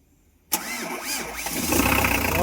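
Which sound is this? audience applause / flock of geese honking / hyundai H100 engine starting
hyundai H100 engine starting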